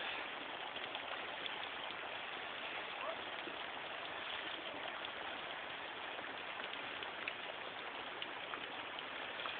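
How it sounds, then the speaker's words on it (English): Steady dense hiss of water falling off a mossy cliff and spattering, like heavy rain pattering on rock, continuous and close with no pauses. "This is like the coolest waterfall I've ever seen."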